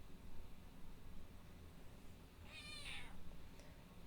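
A cat gives a single short meow, clear but fairly quiet, over a low background hiss with no talking.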